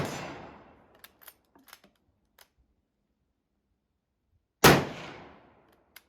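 A French MAS-36 rifle firing 1959 Toulouse 7.5 French ammunition at a shooting range: two sharp, loud reports, one at the very start with a long decaying tail and a second about four seconds later, with light clicks between and no talk.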